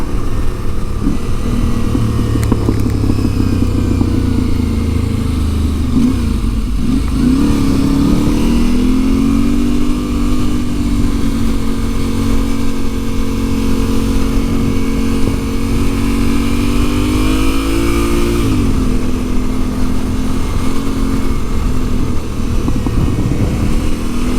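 An Aprilia Tuareg 660 motorcycle rides steadily along country roads in the Brecon Beacons, its engine droning continuously and up close, with a rise in pitch as it accelerates and shifts, alongside wind rush.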